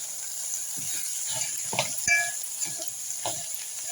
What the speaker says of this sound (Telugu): ఇప్పుడు ఇందులో పసుపు ఉప్పు వేసుకున్నాను కదండి బాగా కలిపేద్దాం ఒకసారి